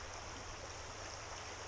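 A bush stream rushes in a steady, broad wash while someone wades downstream through it on a late-season bow fishing trip. The flow sounds close and fairly quiet, and nobody speaks.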